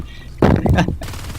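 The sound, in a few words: marines shooting at alien hive in Natural Selection 2 video game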